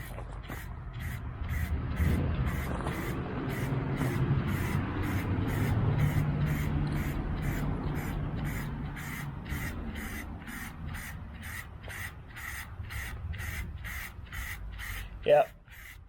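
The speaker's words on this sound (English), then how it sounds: "This is an awesome little spray painting tool" A Can Gun 1 spray tool sprays gloss sail blue paint in a steady hiss pulsing in quick regular bursts, ending with a brief louder clack.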